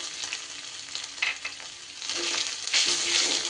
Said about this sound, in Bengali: নারকেল কোড়াটা দিয়ে একটু ভাজা ভাজা করে নেব